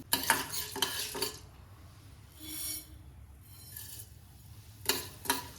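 Urad dal and chana dal frying in oil in a pan for moringa leaf chutney, with a soft steady sizzle, intermittent scraping stirs and light clinks of a spoon against the pan, close by and fairly quiet.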